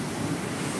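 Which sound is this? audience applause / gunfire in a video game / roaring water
roaring water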